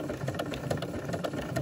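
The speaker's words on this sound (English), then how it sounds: "put my presser foot back down and continue sewing on the coil" A sewing machine stitches through a fabric-wrapped rope coil, building a coiled bowl with rim and handles, giving a steady fast needle chatter with faint rattling, close and continuous without talk.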